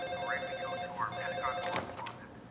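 A wall-mounted telephone rings with a steady electronic trill, two ring bursts over a low background hum, no voices.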